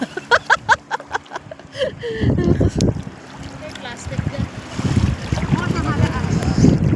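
Strong southwest monsoon (habagat) wind roars and buffets the microphone in gusts, with rushing, splashing water around a fishing boat at sea. Earlier, brief thumps and voices are heard.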